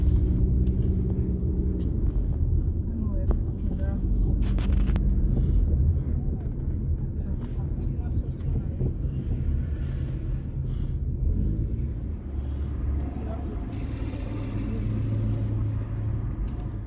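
The inside of a moving car carries a steady low road rumble and engine drone, with faint thumps and occasional rattles over its length and no clear talk.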